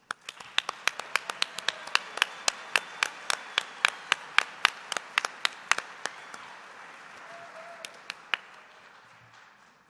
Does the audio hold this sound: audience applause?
yes